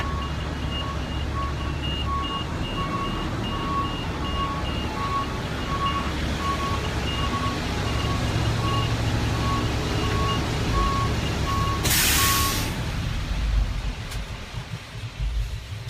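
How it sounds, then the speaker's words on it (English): A fire engine backing up, its reversing alarm sounding a steady, loud series of evenly spaced beeps over engine rumble, ending with a brief burst of hiss. "we're on a fire engine right now, and we're going to be backing this up, so you're going to hear a beep, beep, beep"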